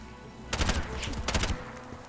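Bursts of gunfire in the shooter game Bright Memory Infinite, two quick clusters of sharp shots about a second apart, loud and close, with no talk over them.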